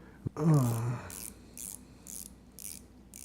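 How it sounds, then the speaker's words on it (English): A German dive watch's 120-click unidirectional bezel turned by hand, giving a short series of crisp, close ratcheting clicks in regular bursts after a brief low knock. "It's 120 clicks, unidirectional bezel."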